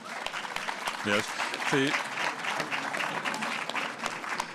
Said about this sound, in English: the cocktails always get a good round of applause